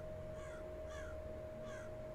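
In the video game Rise of Insanity, a crow caws three times, with evenly spaced, fairly faint calls over a steady background hum.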